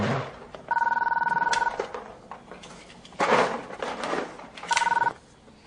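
A bell telephone rings at breakfast in a home, two long shrill electric rings separated by a pause, with a clatter of dishes between them.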